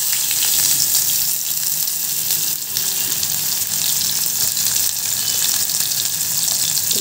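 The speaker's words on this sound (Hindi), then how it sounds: "ये ऑयल हो गया गरम, ये हमने डाल दिया जीरा, अब इसमें आ जाएगा ये प्याज" Chopped onion goes into hot oil with cumin seeds and fries with a bright, steady hiss and crackle. It sounds close and even, heard alone throughout.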